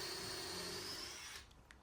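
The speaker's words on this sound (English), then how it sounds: "I'm just countersinking, pre-drilling and countersinking here." A power drill pre-drills and countersinks into wood beside a knot, a loud close steady whine for over a second that then cuts off, leaving faint clicks and handling noise.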